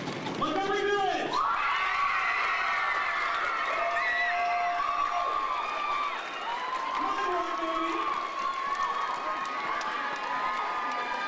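A crowd cheers and shouts at a youth roadshow judging night, loud and sustained throughout, with raised voices and whoops mixed into the noise.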